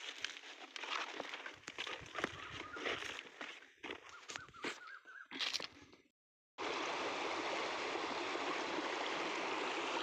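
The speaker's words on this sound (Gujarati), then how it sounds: "ગેટ ખુલી ગયો છે હવે, એટલે જો પાણી આવે ફૂલે ફૂલ" Irrigation water rushes through an opened gate into a wheat field at night. Mixed, uneven noises break off into a brief hush, then a loud, steady, unbroken rush of flowing water takes over.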